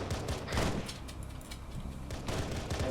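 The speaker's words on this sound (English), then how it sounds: "Ignore that gunfire." Bursts of rapid gunfire crackle in the distance, with repeated volleys layered over a steady background rumble.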